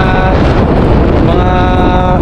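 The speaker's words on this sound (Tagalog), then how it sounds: "So ayun, mahangin po." Strong wind roars continuously outdoors in Taiwan, buffeting the microphone with a loud, rough, unbroken rush throughout.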